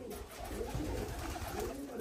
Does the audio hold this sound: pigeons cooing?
yes